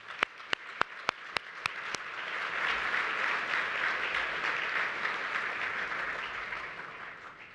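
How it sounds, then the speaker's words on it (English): A few sharp individual claps ring out, then a gala audience breaks into sustained, steady applause that continues throughout. "Please give yourself a round of applause for that."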